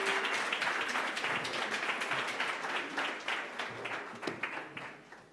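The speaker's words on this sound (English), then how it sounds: "A round of applause," Audience applause at a formal morning gathering, full and busy at first, then thinning over five seconds into fewer, more separate claps that trail off.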